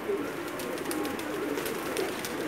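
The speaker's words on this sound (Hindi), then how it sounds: "अभी शाम का टाइम में उतर रहे हैं" Pigeons coo softly in low, repeated calls on a rooftop in Jeddah, Saudi Arabia, in the evening, against a faint outdoor background, with brief higher bird sounds scattered throughout.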